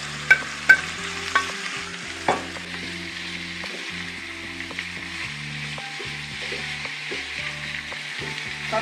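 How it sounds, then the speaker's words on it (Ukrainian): Ham browning with golden onion in a pan sizzles steadily up close, broken by a few sharp clicks of a utensil scraping and stirring early on, then a gentler ongoing fry with no talk. "І шинка буде ще вжарюватися разом з цибулькою, втушуватися."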